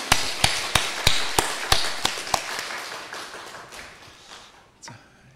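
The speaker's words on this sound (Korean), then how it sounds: "한 번 더 우리 할렐루야 성가대를 위해서 격려의 박수 부탁드립니다" A church congregation claps for the Hallelujah choir during a Sunday service, with a quick run of sharp, evenly spaced claps that loosen and fade toward the end.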